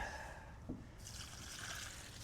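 Water poured onto the roots of a garden tomato plant beside a support stick, a soft close trickle and splash that is faint and brief with no talking.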